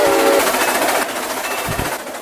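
A Santa Fe 3751 steam locomotive rushing past at speed in the RO-Scale Sandbox game, a brief whistle blast giving way to a loud, broad roar of rolling wheels with a few thumps.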